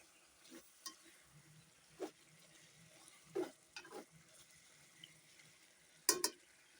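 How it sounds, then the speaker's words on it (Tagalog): A chicken and mushroom dish bubbles in a pan with faint, scattered pops and soft sizzling crackles, quiet and close, with no voices. "kumukulo na siya"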